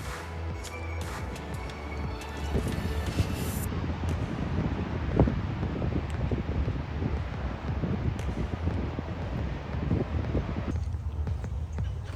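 Steady wind buffeting the microphone throughout at the San Diego coast, a continuous low rumble with gusty swells and rustling, loud and close.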